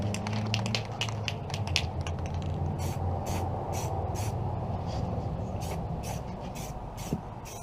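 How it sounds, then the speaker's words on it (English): Short hissing bursts of spray paint on a mask repeat in an irregular rhythm over a low background hum, close by and fairly quiet. "I'm trying not to talk as I'm doing spraying"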